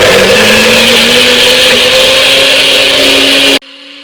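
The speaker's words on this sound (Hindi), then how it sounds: "चले अब इसको हम करते हैं ब्लेंड।" A blender whirs loudly and steadily as it purees a red chilli garlic chutney with lemon, then cuts off abruptly near the end, leaving a faint hum.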